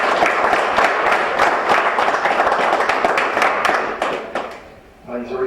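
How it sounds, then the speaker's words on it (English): An audience at a pool tournament gives a referee a brisk, dense round of clapping that holds for about four seconds, then tapers off as a voice resumes talking. "Big round of applause for everybody."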